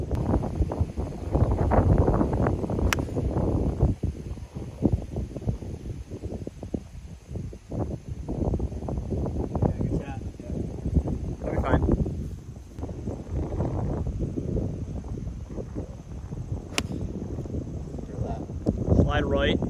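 Wind buffets the microphone on an open golf course, giving a loud, rough rumble that rises and falls throughout. People talk over it the whole time.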